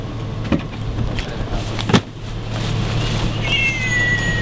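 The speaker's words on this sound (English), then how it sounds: "Shut up, cat." A cat meowing over a steady hum and faint background noise, with a couple of brief sharp sounds and a drawn-out rising-and-falling wail toward the end.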